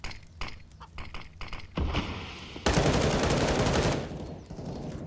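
Rifle fire in Counter-Strike on the Inferno map during an esports match, first scattered sharp shots, then a long loud burst of sprayed automatic fire, with glassy clinks mixed in.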